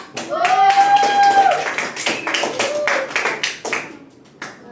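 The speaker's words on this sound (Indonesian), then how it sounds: "Beri tepuk tangan untuk kelompok." Students clapping in a classroom for a group of classmates, short and fairly close. Children's voices and a sung or called-out tone run over the clapping, which fades near the end.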